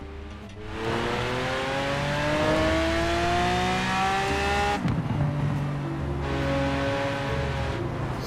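A wrecked Lamborghini Aventador with a V12 accelerates hard in Forza Horizon, its engine note climbing steadily and loudly, with a brief gear-change break before it keeps pulling upward.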